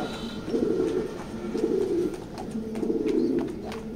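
A pair of racing pigeons coos softly and rhythmically nearby, three throaty bursts in about four seconds, with faint background noise.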